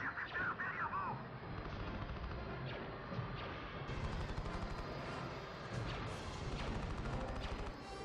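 A bomber in Star Wars Battlefront II fires amid a busy battle, with dense layered blaster shots, crashes and distant explosions forming a continuous loud game soundscape.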